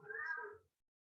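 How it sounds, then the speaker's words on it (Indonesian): A cat gives a single drawn-out meow nearby, then the room falls silent. "Saya dengar suara kucing loh"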